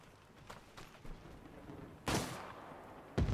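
Artillery fire in the World War 3 video game: a few faint distant thuds early on, then two louder booming blasts near the end, with no talk.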